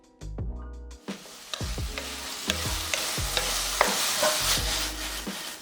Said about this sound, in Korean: 소스 넣고 물만두, 청양고추 넣고 골고루 섞어서 소스를 졸여줬다